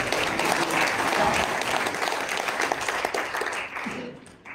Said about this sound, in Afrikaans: geef haar hande klap